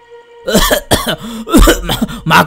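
A run of loud, harsh coughs close to the mic, four or five bursts in quick succession with short gasps between them.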